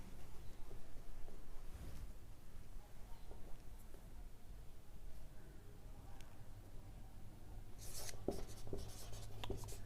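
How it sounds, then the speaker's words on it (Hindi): Chalk or marker writing on a board during a metallurgy lecture: faint, sparse scratches in a quiet room, with a brighter burst of strokes near the end. "तो हम यहां पे लिखते हैं"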